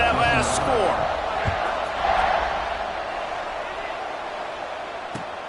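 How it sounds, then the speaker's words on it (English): Stadium crowd noise in a college football video game, Oklahoma at Baylor, a steady broad murmur with a brief swell, carried under a commentator's voice throughout. "this crowd is buzzing after that last score"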